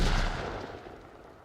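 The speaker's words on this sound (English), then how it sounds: "there's that thrown C4" A thrown C4 charge detonates in the VR shooter Onward, a single booming blast that opens loud and decays into a rumbling tail.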